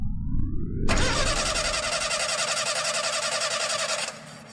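A vehicle engine cranks and catches, then settles into a loud, steady run for several seconds before cutting off abruptly, staged as a takeoff effect in a French radio drama.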